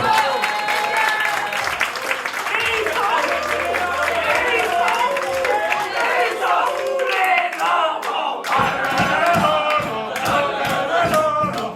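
Wedding guests at a reception applaud and cheer for one of the tables, a dense crowd of clapping and shouting voices that stays loud throughout, with a brief dip before the noise surges again.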